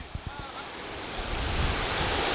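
Sea waves washing ashore at the Tel Aviv beach, a steady broad surf wash that swells louder through the second half, with some wind buffeting the microphone and a couple of low thumps near the start.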